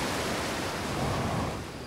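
Rushing waterfall in the VR video game Outer Wilds, a steady broadband roar of falling water that fills the scene close by and fades slightly at the end.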